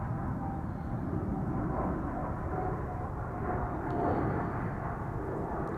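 Departing airliner PH-BKF, five years old with a first flight in December 2019, climbs out of Amsterdam Schiphol with a steady, low engine roar that holds evenly throughout at moderate distance.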